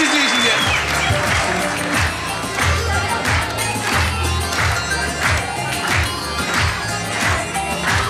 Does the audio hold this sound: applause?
yes